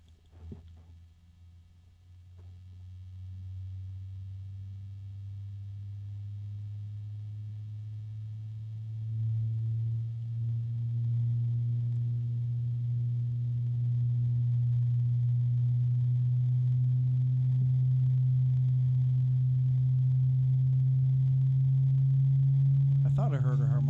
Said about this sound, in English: So there's a low hum right now.